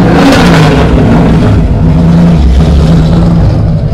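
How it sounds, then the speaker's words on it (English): A car engine revs loudly and close at a Cars & Coffee meet in Nashville, rising and holding with a throaty growl that wavers in pitch over several seconds. "People are going to be revving."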